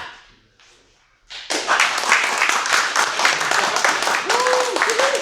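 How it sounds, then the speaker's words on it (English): A group in a martial arts training class claps together in rapid, repeated bursts that begin suddenly after a short quiet stretch, fairly close, with talk and occasional shouts mixed in. "Clap."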